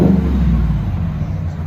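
Supercharged 6.2L V8 in a 2018 GMC Sierra Denali revving hard through a Magnaflow dual exhaust, a loud, close, heavy low rumble that surges at the start and then holds steady.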